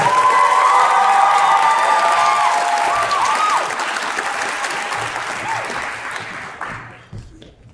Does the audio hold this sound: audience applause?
yes